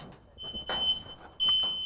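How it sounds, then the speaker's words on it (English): A photoelectric smoke alarm shrieks in a smoke-filled room with no ventilation, its steady high tone starting partway through and returning loud after a short break, with faint room noise beneath. "20 minutes with smoke filling the room, the first alarm sounds."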